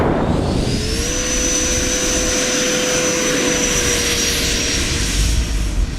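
A Banana Hobby L-39 foam RC jet with a 105mm electric ducted fan on 12S power takes off from a grass field, its loud steady whine rising in pitch and then holding high and constant.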